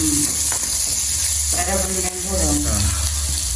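Onions and garlic fry loudly and close in a pan, a dense continuous sizzle with occasional stirring, while a voice briefly sounds underneath.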